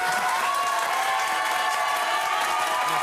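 A studio audience applauds and cheers steadily to rate a contestant on an applause meter in a French TV magazine show, dense clapping with crowd noise holding at an even level throughout.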